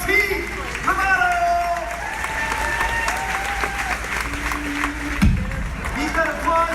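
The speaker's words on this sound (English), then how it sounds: "Keep that applause going for all of our background extras!" Theme park stunt show audience at Walt Disney World applauding, sustained clapping and crowd noise under an announcer's amplified voice, with a brief thump near the end.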